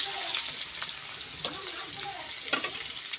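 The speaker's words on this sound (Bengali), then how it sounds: "এবার এই তেলে আমি পেঁয়াজগুলো ভেজে নেব" Onions frying in hot oil in a pan after potatoes were fried, a steady close sizzle with occasional stirring scrapes and soft clinks, and no voices over it.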